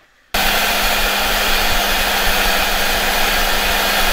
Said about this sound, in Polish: przy wyższym napięciu ten silnik zaczyna dosyć mocno iskrzyć